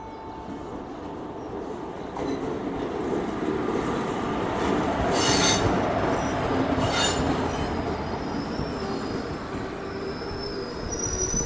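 Express train running through a railway station in India, a loud continuous rolling rumble with squealing wheels that swells in the middle and then stays steady, no voices.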